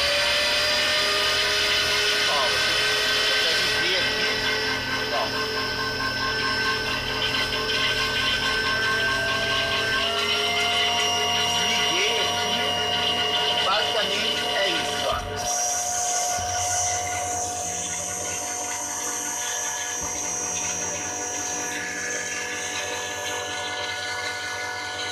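A pantograph key cutting machine runs with a steady, harsh mechanical whine and grinding hum that holds throughout, shifting in tone partway through, with a few faint clicks and no talk over it.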